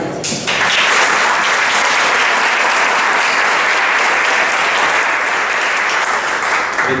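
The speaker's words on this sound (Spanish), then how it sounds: "con un aplauso vamos a recibir a nuestro amigo empresario Joaquín Navi" Loud, dense applause from a seated audience in a hall welcomes a businessman to the podium, breaking out abruptly and holding steady without letup.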